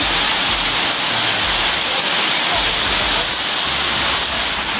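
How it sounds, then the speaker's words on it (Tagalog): Heavy rain pours down in a dense, continuous hiss, loud and close, with a steady roar and no pauses. "Tapos biglang lumakas ng ulan."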